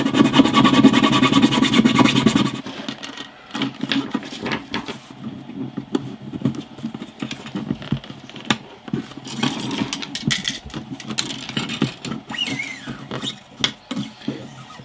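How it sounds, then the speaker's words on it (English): A small round file rasps a channel into the bridge of a vintage steel-string guitar, a loud continuous buzzing rub at first, then close, irregular back-and-forth scraping strokes. "I'm using a small round file just to make a channel"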